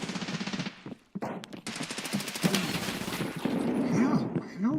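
An MP7 submachine gun firing in a video game arena match, rapid, loud automatic bursts with brief pauses, mixed with someone talking.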